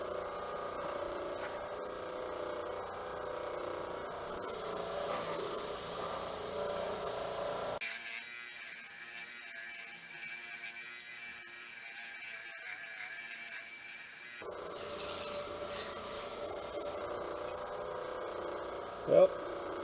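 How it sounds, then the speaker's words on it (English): A wire wheel scours paint and surface rust off a Wilton vise in two steady, buzzing bursts separated by a quieter stretch of motor hum, with a sharp clank near the end. "Get some of the paint off and things on a wire wheel."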